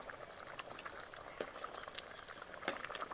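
A pot of Nellore-style fish curry with mango pieces simmers at a steady boil, soft bubbling and popping with a few sharper pops, close and quiet, with no talking.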